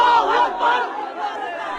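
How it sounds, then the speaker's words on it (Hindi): A mob in a Chittagong street during a night attack shouts slogans in loud, ragged unison, several rising and falling chants from a crowd close by and full in volume. "हिंदुओं के खिलाफ नारेबाजी हो रही है।"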